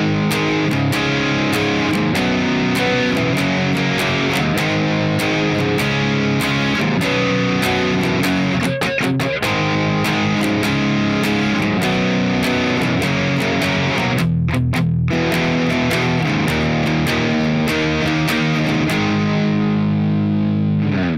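A heavily distorted electric guitar plays the main riff and chorus of a song, a dense, loud, continuous chugging wall of tone with a couple of brief muted stops before ringing out at the end.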